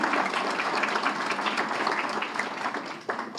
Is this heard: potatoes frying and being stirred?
no